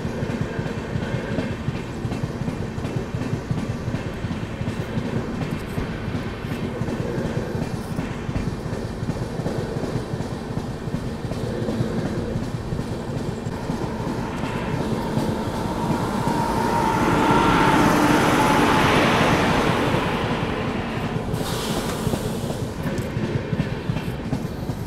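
A passenger train runs on the rails near Warangal, giving a steady loud rumble with rapid clickety-clack from the wheels and a swell of rushing noise toward the end, with no voices.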